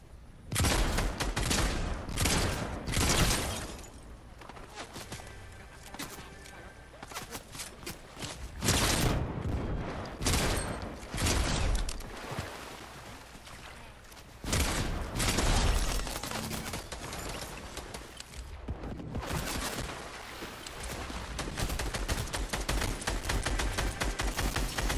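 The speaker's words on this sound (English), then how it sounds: "And now I see people shooting." Gunfire rattles through a Fortnite match in rapid, dense bursts, loud sharp volleys with brief lulls between them and sustained shooting toward the end, with no voices.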